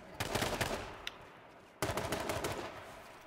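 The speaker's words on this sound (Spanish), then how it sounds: "Está disparando." Rapid bursts of gunfire in the online shooter game H1Z1, two clusters of quick shots separated by a short pause, moderately faint.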